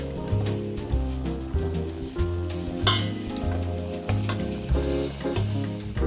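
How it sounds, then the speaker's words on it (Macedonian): Chopped onion frying in oil on low heat in a home kitchen pan, a steady soft sizzle with light crackles and occasional stirring, close and continuous without talk. "Кромитот го пржиме на тивок оган да застакли."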